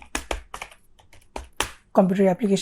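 Typing on a computer keyboard while entering text in an MS Excel 2007 workbook, crisp close key clicks in short irregular bursts, followed by a voice speaking over the end.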